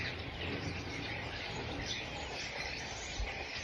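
A flock of starlings descends on a cherry tree in a Ukrainian garden, giving a steady dense wash of chirps and twittering calls at moderate distance with no one speaking.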